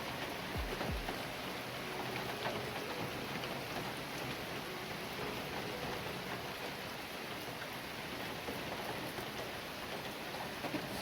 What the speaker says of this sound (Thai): ฝนตกเยอะเกินไป